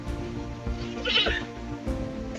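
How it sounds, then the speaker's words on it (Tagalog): A goat gives a wavering bleat in the middle of the moment, moderately close, over low background noise with a few soft thumps before and after. "Ito na yung kambing."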